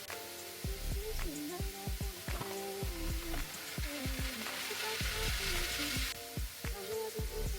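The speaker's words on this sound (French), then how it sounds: "on va faire cuire la viande hachée" Ground beef sizzles loudly in a pan, a dense crackling fry broken by repeated scraping and clattering stir strokes, near and continuous with faint talk underneath.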